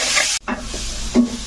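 Grated coconut fries in a pan for coconut samosa filling, a close steady sizzle with a couple of short scraping stirs.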